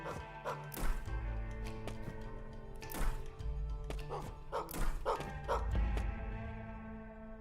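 Dog barking in the game Gestalt: Steam and Cinder, a series of sharp, close barks and yips in irregular bursts, with background music and thuds underneath.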